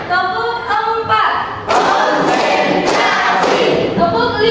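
A school class claps together on command, answering a teacher who calls out counts. Her voice comes first, then loud bursts of group clapping with brief cheers take over the second half.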